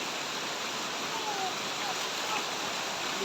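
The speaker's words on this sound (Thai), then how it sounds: "เป็นน้ำตกที่สวยมากนะทุกคนนะนี่ น้ำตกที่สวยมากเลย" A waterfall at a forest campsite gives off a steady, broadband rushing hiss, fairly faint and unbroken, with no speech over it.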